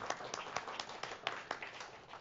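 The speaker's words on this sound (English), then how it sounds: "You can save your applause for later" Scattered hand claps from a small group, light and uneven, with individual claps standing out against a steady hiss.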